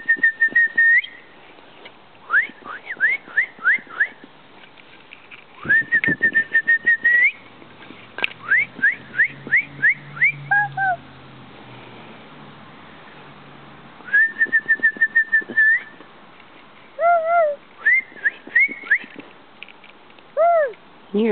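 Someone whistles to call a cat outdoors: repeated short rising chirps and sustained tones in bursts with pauses, plus a few scattered clicks and faint background noise.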